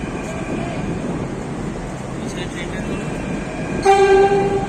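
A Jaipur Metro train runs with a steady, continuous rumble of wheels and motors from inside the carriage, and near the end a tonal horn or chime sounds loudly over the running noise.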